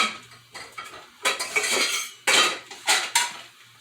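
Dishes and a spatula clatter at a kitchen counter beside a homemade chocolate cake, with close, sharp clinks and scrapes in irregular bursts of several knocks and no voices.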